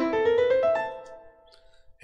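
A short ascending run of pitched notes, each step clearly separated, played steadily on a keyboard-like instrument, then a quiet fade with faint background noise.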